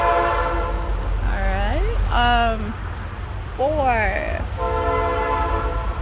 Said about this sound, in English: It should pass over. It sucks living by a train.